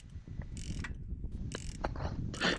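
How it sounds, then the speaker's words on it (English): A hand ratchet tightens a bolt down into a thread insert, giving a few short bursts of close, crisp clicking separated by pauses, with no talking. "wind it in by hand, and then just tighten it up with your ratchet"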